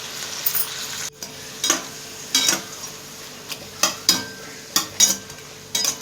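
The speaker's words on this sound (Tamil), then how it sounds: "கட் பண்ணி வச்சுருக்கிற வெங்காயத்தையும் போட்டு நல்லா வதக்கணும்" Chopped onions sauté in a pan for mushroom biryani, a low sizzle broken by repeated sharp scraping and clinking strokes of a spoon against metal, irregular but frequent, close and unaccompanied by speech.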